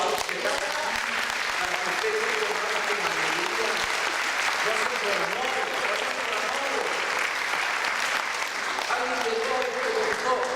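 A church congregation applauds during a Sunday service, sustained thick clapping from a large crowd carrying on for several seconds, with voices talking and calling out underneath.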